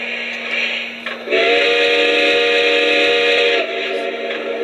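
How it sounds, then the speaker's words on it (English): A Lionel Legacy model Russian Decapod steam locomotive blows a chime-like whistle with several blended tones steadily for about two seconds above a steady hiss, then cuts off. "And then we got the 5 different whistles,"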